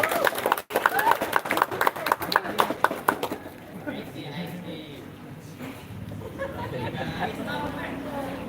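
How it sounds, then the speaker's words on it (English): Audience applause at an English speech contest rises in a burst of clapping for about three seconds, then fades into low murmuring room noise and shuffling. "Give applause."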